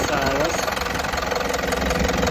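A Toyota Land Cruiser with a 3.0 diesel engine and 193,000 km idles close by, giving a steady, even rumbling hum with a faint knocking texture and no change in pace.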